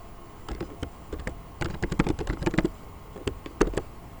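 Typing on a computer keyboard, close and clear, with bursts of quick key clicks and short pauses between them.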